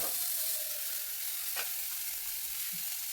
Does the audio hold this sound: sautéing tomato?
yes